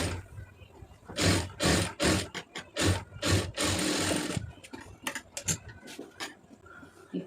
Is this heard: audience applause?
no